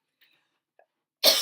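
A single short, sharp cough from someone with a lingering cold near the end, close and fairly loud, following near silence with a couple of faint clicks.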